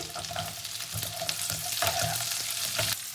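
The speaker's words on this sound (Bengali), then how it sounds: "আদা রসুনটা মোটামুটি ফ্রাই হয়ে গেলে দেবো আমি কাঁচা লঙ্কা কুচি, আর দেবো আমি ক্যাপসিকাম কুচি" Chopped ginger and garlic sizzle steadily in hot oil with chopped green chili and capsicum, broken up by scraping stirs of a spatula and heard close and alone.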